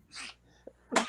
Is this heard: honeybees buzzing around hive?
no